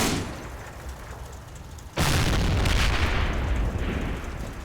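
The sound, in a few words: assault gun firing 105mm HE cannon, Combat Mission video game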